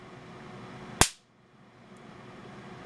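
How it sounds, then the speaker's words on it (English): A single sharp electric crack as a high-voltage capacitor bank discharges, loud and abrupt, fades quickly into a faint steady hum. "discharge the capacitor bank, this should make a little bit louder crack"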